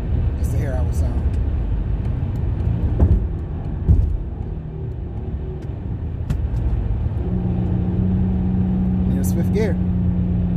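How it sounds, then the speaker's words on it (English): Car engine with a new Jemini Y-pipe and Evil Energy exhaust, held in neutral and revved, a low steady rumble that swells in short bursts, with a speaking voice heard over the top. "I'm gonna put it in neutral just so I can rev it"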